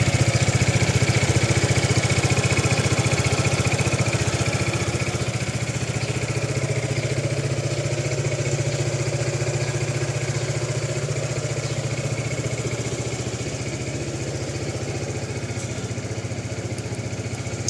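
A Zontes 250TE motorcycle engine idles steadily with a deep, even thrum, loud and close, settling slightly quieter toward the end.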